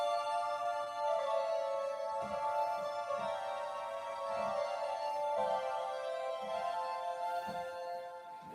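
Soft, sustained electric organ tone on a string stop with the swell pedal raised, holding steady chords with faint soft taps now and then, quiet and close.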